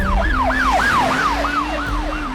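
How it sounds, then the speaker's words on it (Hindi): An ambulance siren wails in a rapid, repeating rising-and-falling sweep, loud and steady throughout with a low engine rumble beneath and no voices. "जब मैं फोन पे बात कर रहा था तो एम्बुलेंस का आवाज सुनाई दिया।"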